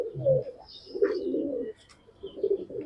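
Pigeons cooing nearby in soft, low, rolling calls that repeat over a few seconds, with faint chirps higher up.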